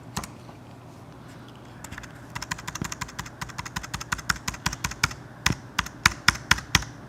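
Fingers tap on a Mac computer keyboard, first in light, scattered presses and then in a quickening run of crisp, close keystrokes, ending with a few sharper individual taps.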